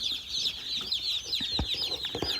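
A dense chorus of high, thin peeping from many young cockerel chicks, continuous and close, with a few soft low thumps underneath.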